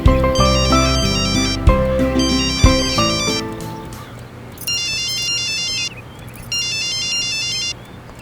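A tonal melody gives way to an electronic ringtone chirping in two repeated bursts, clear and close over a low background hum.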